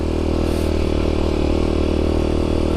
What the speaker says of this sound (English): it looks like a good, proper off-roader. Especially in the Kawasaki green.